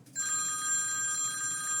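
A phone left somewhere in the house rings with a steady, bright electronic trill that starts almost immediately and holds unbroken, close and clear with no talking.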